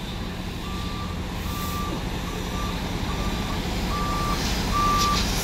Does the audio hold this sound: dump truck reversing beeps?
yes